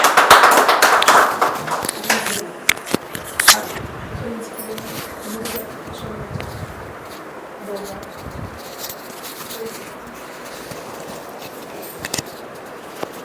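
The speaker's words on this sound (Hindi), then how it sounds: "गवाही के लिए हम जोरदार ताली बजाएंगे" An audience claps for a testimony at a prayer hall in Indore. Brief loud applause fades within seconds, followed by scattered taps and quiet room noise.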